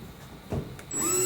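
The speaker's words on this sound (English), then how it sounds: "So I'm just going to drill a small hole." A power drill bores a small hole through a wall for PEX tubing during a hose bib installation, a short whirring burst that rises to a steady high whine near the end.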